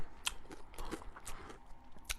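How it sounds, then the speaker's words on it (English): Crunchy cereal being chewed close to the mic, a series of short crisp bites and crunches in an irregular rhythm, with no talking. "I probably shouldn't have chose crunchy cereal right before Good Life"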